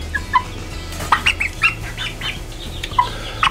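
Eight-week-old Marans chickens, roosters and hens, cluck nearby in scattered short calls over a low background rumble, with no one speaking.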